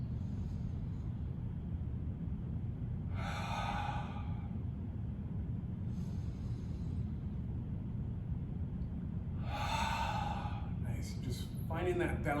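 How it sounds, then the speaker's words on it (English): Slow, deliberate breaths during a beginner yoga session: two soft, airy breath sounds stand out around four and ten seconds, over a steady low room hum, with a faint rustle near the end. "Inhale through the nose, nice inhale. And release the breath."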